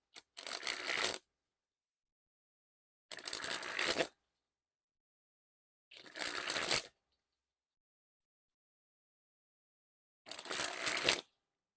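A Starry Night Puzzle deck of slippery playing cards being sprung from hand to hand, four separate short bursts of fluttering riffles with silent pauses between them.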